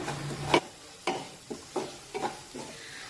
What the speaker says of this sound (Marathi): आता हे सर्व मसाले कांद्यामध्ये अगदी व्यवस्थित मिक्स करून घेऊ